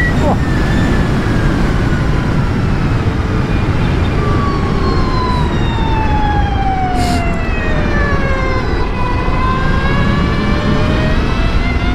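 An Energica Ego+ RS electric motorcycle accelerates at half throttle, its motor whine sliding through steady rising and falling tones over loud, constant wind roar.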